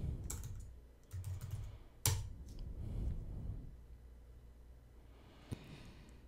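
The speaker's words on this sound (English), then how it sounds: "So let's just type in maze printable." Quiet typing on a computer keyboard, a few soft clustered key taps and one sharper click, close and faint against low background hum with no talking.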